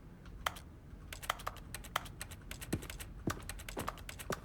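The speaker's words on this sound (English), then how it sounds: "I don't like how we constantly hear like keyboard clicking now." Rapid keyboard clicking from The Stanley Parable: Ultra Deluxe, a steady stream of sharp, moderately quiet taps continuing throughout with no talk.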